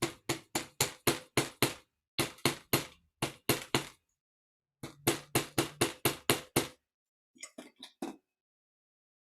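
A chasing hammer flattens and textures wire for pins with rapid, steady strikes in bursts of seven to nine close taps. Brief pauses separate the bursts, and a few lighter taps come at the end.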